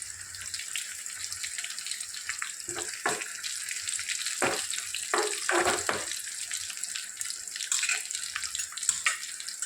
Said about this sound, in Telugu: పచ్చిమిర్చి వేసుకున్న తర్వాత ఇవి వేగాక ఎండుమిర్చి అండి